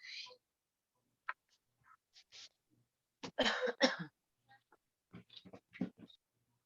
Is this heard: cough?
yes